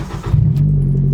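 A Nissan Skyline EW32 cranks briefly and catches, settling at once into a loud, deep, steady idle with the exhaust disconnected from the mid-section back, close and raw with no talking.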